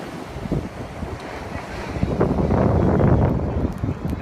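Wind and ocean surf on a Brooklyn beach during a winter blizzard, a steady broadband roar that swells slightly toward the end, with no voices.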